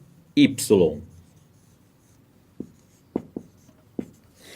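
Marker or chalk strokes on a board as force components are drawn, a loud scratchy scribble at first followed by several short separate taps and strokes, in a quiet room.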